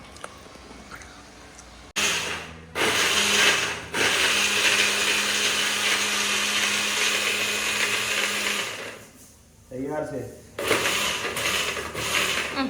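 Blender whirring loudly as it mixes cashew or almond pieces with milk into a shake, running in several bursts that start and stop, with grinding texture and short pauses between.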